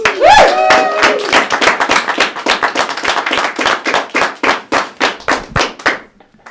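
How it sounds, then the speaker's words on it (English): Comedy club audience in Wyoming-introduced show claps for a comedian after her introduction, a fairly small crowd producing distinct, separate claps that thin out over several seconds as a voice briefly sounds at the start. "Please give a big round of applause for Miss Ailis."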